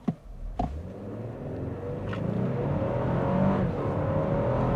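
A 2023 Lexus LX 600 launched at full throttle without brake torquing, its engine note swelling into a loud, steadily rising drone after a couple of brief knocks at the start.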